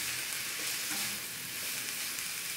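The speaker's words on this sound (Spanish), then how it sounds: "después de que la cebolla está acitronada, vamos a poner lo que es la seta." Mushrooms fry in a pan with softened onion for gorditas, making a dense, even crackling sizzle with light stirring throughout, close and alone.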